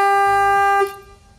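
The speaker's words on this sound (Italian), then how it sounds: "accendendo la macchina dovrebbe suonare il clacson" A car horn wired to a homemade anti-theft alarm relay blares in one loud, sustained honk close by, then cuts off abruptly, leaving quiet.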